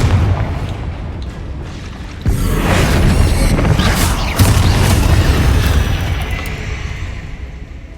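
Repeated Confringo blasting-spell explosions in the Hogwarts Legacy video game, broad booming bursts striking at about two and four seconds over a dense, continuous battle din.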